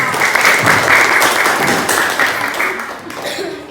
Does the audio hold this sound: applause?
yes